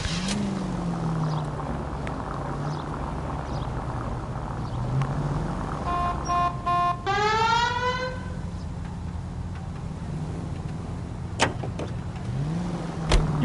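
A commandeered car driving in the game L.A. Noire, a steady engine drone and road rumble throughout, with a short rising mechanical whine partway through and a couple of sharp clicks near the end.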